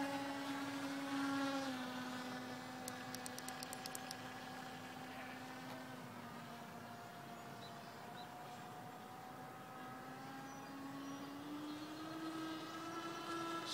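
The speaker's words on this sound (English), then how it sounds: "Let's see if I can do a nice high-speed flyby." A scratchbuilt 52-inch radio-controlled Icon A5 model plane makes a high-speed flyby, its motor a steady tonal whine that slides in pitch as it passes, sustained and alone for about fourteen seconds.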